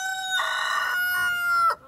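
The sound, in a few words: rooster crowing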